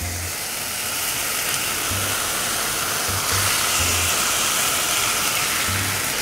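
Udon noodles hitting a hot wok of fried kimchi with sakura shrimp set off a loud, continuous sizzling hiss that stays steady throughout, close up, with no voices over it.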